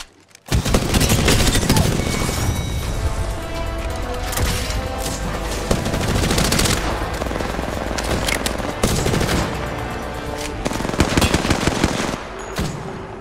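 Gunfire in the video game Apex Legends, loud rapid automatic bursts repeating in clusters over about twelve seconds, close and punchy, with brief pauses between volleys.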